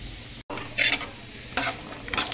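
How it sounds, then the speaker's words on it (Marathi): Cashews sizzle in hot oil in a pan while being stirred, with bright bursts of frying hiss rising and falling over a steady background hum. "त्यात काजू मी फ्राय करून घेणार आहे अगोदर"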